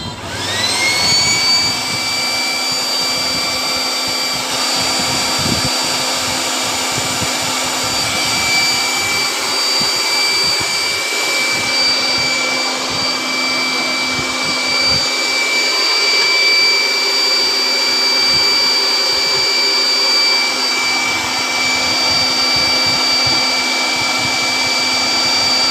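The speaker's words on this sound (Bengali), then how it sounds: "চালাও ব্লোয়ার চালাও।" An electric air blower runs continuously at steady loudness, a dense broadband whoosh with a high steady whine, driven from a battery-less solar inverter setup with DC 400 V input and AC 225 V output.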